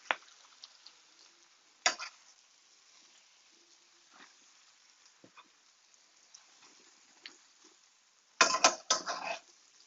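Rainbow chard and garlic wilting in a hot pan over a wood fire, turned with tongs, giving faint scattered clinks and scrapes with a louder clattering burst of metal on pan near the end.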